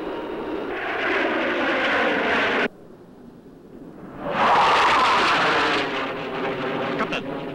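Military fixed-wing aircraft roar past overhead in a Gamera monster film, a loud engine rush that cuts off abruptly partway, then swells back in even louder and broader before easing slightly.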